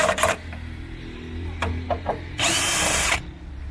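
Power drill backing out screws on a Fiat 500c bumper during a headlight swap: several short whirring bursts, then a longer, louder sustained spin near the end, close by in a quiet garage.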